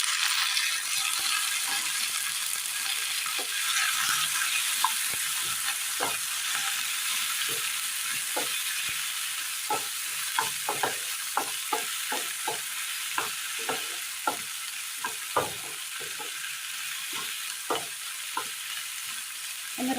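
Onion, green chilli and chopped tomato sizzle in a pan, a continuous hiss of frying punctuated by frequent sharp scrapes and taps of a spoon stirring, louder and busier toward the middle.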